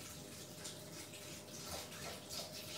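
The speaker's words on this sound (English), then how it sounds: "So I'm gonna weigh this in as I go. So 400 grams of water." Water is poured steadily into a Thermomix bowl on a scale while being weighed, giving a continuous soft splashing rush with no talking.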